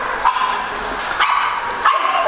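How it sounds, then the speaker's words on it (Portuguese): Dog barking excitedly near a BMW N46 2.0 16v engine repair, with short repeated yips and barks over steady background noise, fairly loud and close. "o cachorro enlouquece."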